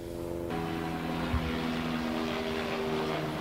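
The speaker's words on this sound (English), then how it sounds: "excuse the helicopter." A helicopter drones steadily overhead with a low rotor hum and engine whine, continuous and moderately loud, with no talking.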